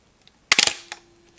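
A medium format 120 film camera's shutter fired at 1/1000 s, one sharp, loud mechanical clatter of a few quick clicks, then a fainter click and a faint lingering hum in a quiet room.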